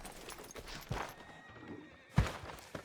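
A horse in the Red Dead Redemption 2 video game neighs in two short bursts, one faint and one louder, against a quiet background with no talking.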